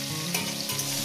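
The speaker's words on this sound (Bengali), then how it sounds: "টমেটোটাকে দিয়ে আমি একটু ভেজে নেব, মিনিমাম 1 থেকে 2 মিনিট টমেটোটাকে আমি ভেজে নেব।" Tomato frying in hot oil in a pan, a close, loud, steady sizzle with a couple of brief stirring scrapes, no voices.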